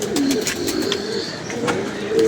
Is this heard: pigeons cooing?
yes